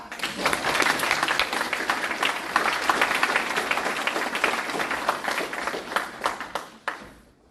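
An audience at a city's State of the City address gives a steady round of applause, many hands clapping loudly together for several seconds before it thins out into scattered claps and stops.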